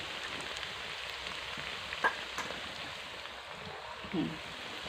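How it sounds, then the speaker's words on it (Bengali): Onion paste frying in oil with spices in a village kitchen, a faint, even hiss of oil with a couple of soft clicks and quiet background sounds, no clear talking. "এখন পেঁয়াজটা হালকা একটু ভেজে নেব"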